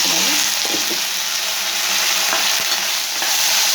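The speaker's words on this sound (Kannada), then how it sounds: "ಎಣ್ಣೆ ಹಾಕಿ ಆಲೂಗೆಡ್ಡೆ ಹಾಕಿದ್ಮೇಲೆ ಒಂದು 10 ನಿಮಿಷ ಈ ಥರ ಫ್ರೈ ಮಾಡ್ಕೊಂಡ್ರೆ ಚೆನ್ನಾಗಿ" Potato pieces frying in hot oil for upma, a loud, steady hiss of sizzling heard close, with a few faint clinks of stirring beneath it.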